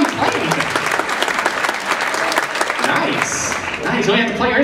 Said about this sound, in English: You only have to play your instrument to get applause.